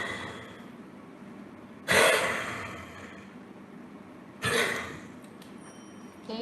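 Two separate harsh dog coughs, a couple of seconds apart, each ending in a raspy breath, with quiet background between them; an intermittent cardiorespiratory cough.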